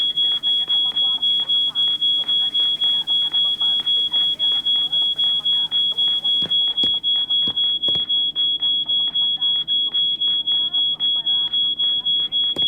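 Steady electronic alarm ringing in the video game She Could Fly, a continuous high pulsing tone repeating every fraction of a second throughout, loud and constant, with people talking and occasional clicks underneath.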